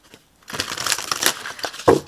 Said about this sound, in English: Let me shuffle them real good.